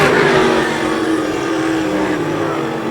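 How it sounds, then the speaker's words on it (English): A modified race car runs hard on an oval track, its engine a loud, steady drone that eases slightly as it passes and carries on at speed. "Car running at a pretty good clip here tonight."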